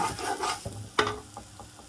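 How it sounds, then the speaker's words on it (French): A utensil scrapes and stirs the bottom of a saucepan while chicken cooks, giving soft rubbing strokes and a sharper scrape amid faint sizzling, with no talk. "On gratte bien tout ce qui est collé au fond de la casserole."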